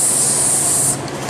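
A paint spray gun hisses in one loud, steady, close burst of atomized spray that cuts off sharply near the end, with no talking over it.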